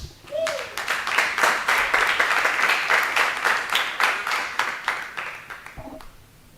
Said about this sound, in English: Thank you for the very appreciative applause.